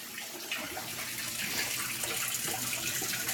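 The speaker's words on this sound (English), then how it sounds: "Fallon's gonna put some hot water in there" Hot water pours steadily from a tap into a python tank during a water change, a continuous broadband rush that swells slightly louder midway and stays close and even throughout.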